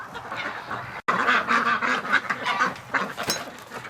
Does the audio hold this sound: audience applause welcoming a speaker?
no